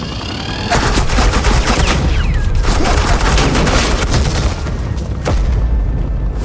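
Loud, dense gunfire in the Batman: The Enemy Within video game, a continuous rattling barrage of rapid shots and booms that carries on for several seconds with no pauses.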